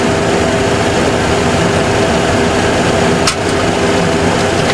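Aircraft engine running in a flight simulator makes a loud, steady broadband roar with a faint constant hum, unchanging throughout apart from one brief click near the end, no voices.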